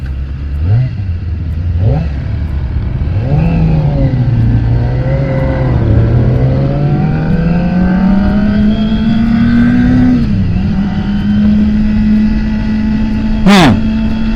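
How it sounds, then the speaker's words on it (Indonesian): A Kawasaki Ninja ZX25R four-cylinder motorcycle on its stock exhaust revs repeatedly, its high-pitched engine note rising and falling in quick blips and longer climbs, close and loud. "ini baru knalpot standar aja, dia suaranya kayak meraung-raung di dalam telinga lo gitu"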